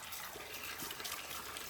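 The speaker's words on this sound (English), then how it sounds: "Running water is installed at the side of the courtyard, making daily chores really convenient." Water runs from a tap installed at the side of a rural courtyard, a soft, steady splashing hiss heard faintly and unbroken for a brief moment.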